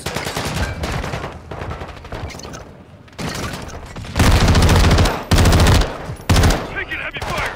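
Loud bursts of automatic gunfire and heavy shooting in the video game Call of Duty DMZ, coming in long sustained volleys with short gaps between them, over a low rumbling background.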